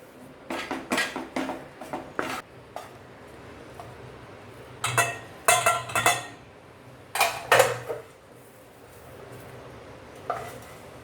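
Ghee-rich besan mixture for laddoos is scraped from a hot pan into a bowl with a metal spoon, giving bursts of loud clanking and scraping in quick clusters, separated by short pauses, with no talking.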